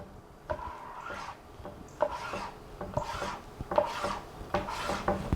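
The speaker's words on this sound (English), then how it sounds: "I'm just gonna cut this into some nice long strips" Soft, repeated slicing strokes of a sharp knife cutting raw salmon into long strips on a board, about five quiet, close cuts in an irregular rhythm.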